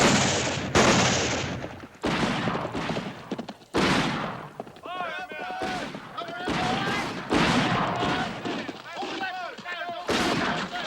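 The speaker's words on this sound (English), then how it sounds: "What are they shooting at there, George? Looks like they're shooting at each other." Battle gunfire from a film about the Alamo: loud volleys of rifle and cannon shots boom in repeated bursts, with shouting voices and talk mixed in between the blasts.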